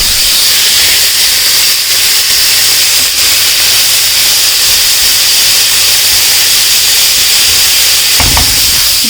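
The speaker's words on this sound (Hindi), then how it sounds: "मैं हाथों हाथ छोले डाल दे रही हूँ, क्योंकि मुझे थोड़े से फ्राई करना है" Chickpeas (chole) frying in hot oil give a loud, steady hiss and sizzle that runs unbroken throughout, with a brief clatter near the end.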